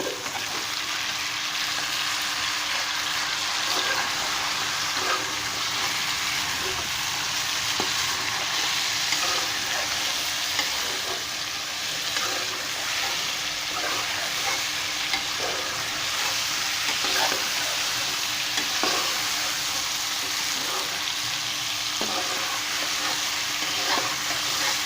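Cumin potatoes fry with tomatoes just added in a pan, a long steady loud sizzle with frequent spatula stirring scrapes and clinks, no voices.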